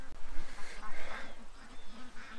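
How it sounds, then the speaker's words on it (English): Little ducks in a backyard pen give a run of nasal, throaty quacks in bursts, fairly close and fairly loud. "We got a couple little ducks that are not too bright."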